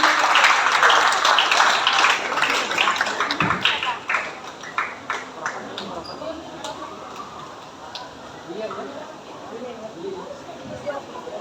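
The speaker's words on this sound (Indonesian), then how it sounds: "bisa tepuk tangan dong buat teman-teman" Students at SMPN 1 Gianyar clap for their classmates during a school peer activity, a burst of scattered clapping that thins into a few sporadic claps and taps.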